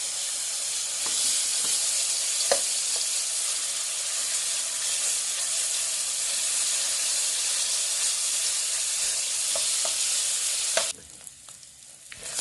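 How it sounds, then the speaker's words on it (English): Minced salt beef fries in oil in a pot, giving a loud, steady sizzling hiss with a few sharp pops. Near the end the sizzle suddenly drops to a much quieter level. "We're allowing this to fry out until they are very, very brown"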